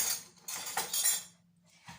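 Metal forks and a spoon clink together in a few quick, close bursts, with short pauses between them and a final light clink.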